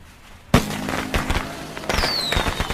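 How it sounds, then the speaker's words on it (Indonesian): Fireworks lit and set off outdoors, starting with a sharp close bang and followed by scattered crackling pops and bursts, then a faint whistling streak trailing away. "Keduanya kemudian bersiap melakukan sesuatu yang besar, yaitu menyalakan kembang api."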